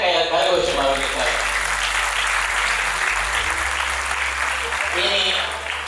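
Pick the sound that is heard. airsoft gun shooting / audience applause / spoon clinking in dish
audience applause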